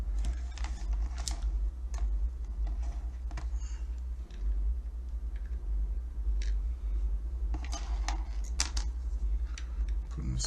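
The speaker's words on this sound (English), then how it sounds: "Putting the screws back in." Screws being driven back into a Ryobi 4V charger housing, a series of small scattered clicks and plastic ticks with short squeaky turning sounds over a constant low hum, close up and fairly quiet.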